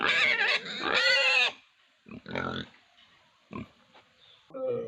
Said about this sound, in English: His cries of anguish covered by the pig's excited screams.